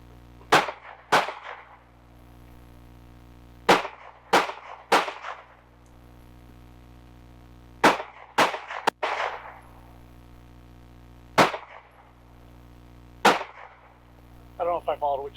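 Handgun shots fired from awkward shooting stances on a range, in pairs and short groups of sharp reports spread over about fifteen seconds, fairly close and loud, with no talk between them.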